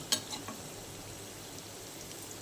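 Aloo bondas deep-frying in hot oil give a steady, close hiss and crackle throughout, with a sharper pop near the start and no voices.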